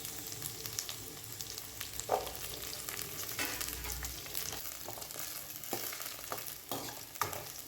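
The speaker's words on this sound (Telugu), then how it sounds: "ఇలా కలుపుకుంటూ వేయించుకోవాలి." Green chillies and seven or eight garlic cloves fry in a pan for Andhra-style gongura chutney, a quiet steady sizzle broken by repeated scraping stirs of a spoon, with no talking.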